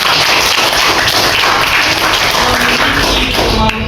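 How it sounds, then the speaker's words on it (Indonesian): A classroom of students applauds together, a dense, steady patter of many hands clapping at close range, loud and continuous until it stops abruptly near the end. "Tepuk tangan dulu."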